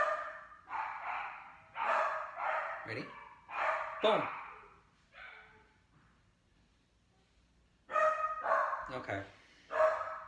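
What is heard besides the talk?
dog barking during a training session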